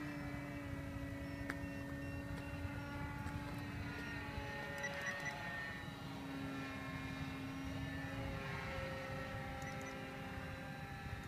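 Warbler UAV, a small propeller-driven fixed-wing drone on its maiden flight, a steady droning buzz with shifting pitch as it flies at middle distance, continuous and without talk.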